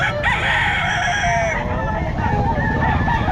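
A Boston Sweater gamefowl rooster crows at a busy pet market in Calumpit, a long drawn-out call over steady crowd noise, with voices talking nearby.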